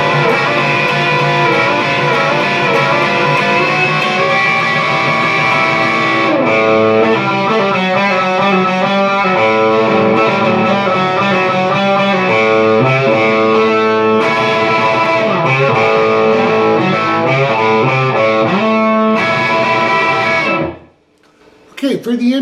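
Distorted electric guitar in normal tuning plays the guitar part of a song, steady riffing chords for about twenty seconds before cutting off, loud and close.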